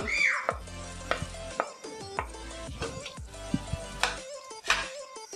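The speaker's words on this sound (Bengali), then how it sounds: "খুব ভালোভাবে মিশে নেব একটি বলক আসা পর্যন্ত অপেক্ষা করব" A spoon stirring chopped tomato into vegetable khichuri in a cooking pot, with repeated close scraping and knocking against the pot over a soft sizzle, no talking.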